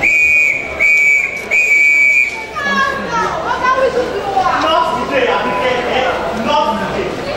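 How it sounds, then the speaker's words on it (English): Shrill whistle blasts repeated in quick bursts, loud and close, then a crowd of children shouting and playing noisily. "I will not hesitate to blow my whistle vigorously."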